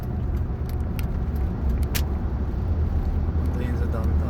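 Downtown traffic on the Houston I-10 freeway, heard as a steady low rumble of cars from inside a vehicle, continuous and fairly loud, with a few light clicks and talk over it.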